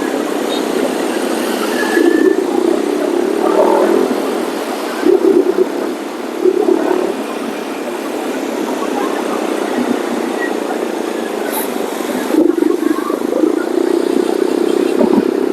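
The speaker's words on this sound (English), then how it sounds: "I have to start the engine as well again." A Yamaha XSR 155 motorcycle engine runs at a steady idle amid road traffic, with a few brief revs rising over the constant drone, moderately loud and close.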